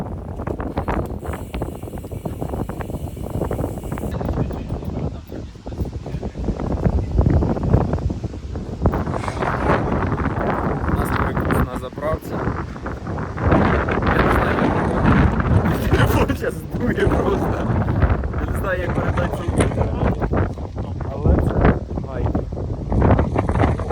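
Strong wind buffets the microphone with a constant roaring rumble, while people talk intermittently beneath the gusts.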